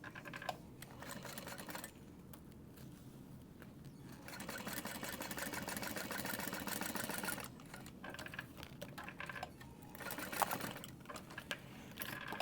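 A sewing machine stitches a seam flat on a clear vinyl pouch, giving a steady rapid whirring with brief pauses and restarts, close and fairly quiet, with no talking.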